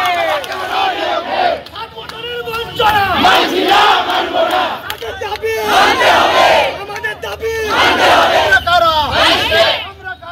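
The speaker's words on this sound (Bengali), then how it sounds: "স্লোগান তুলে বিক্ষোভ চাকরি প্রার্থীদের" Job candidates at a recruitment protest chant slogans loudly in unison, a dense crowd roaring in repeated rhythmic waves close by.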